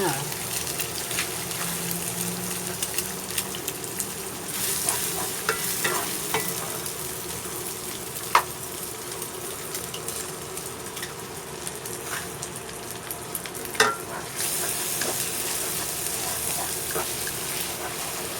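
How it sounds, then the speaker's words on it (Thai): Eggs and pork stir-fry in a pan as a constant close sizzle, broken by scraping spatula strokes and a few sharp knocks, with a voice speaking quietly at times. "หมูก็เริ่มสุกแล้วนะคะ เราก็เอาไข่ ลงไปผัดเลยค่ะ"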